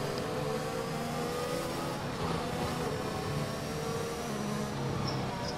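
A race car engine in a racing video game during a long endurance race, a steady sustained drone with shifting pitch, loud and continuous throughout, no voices on top.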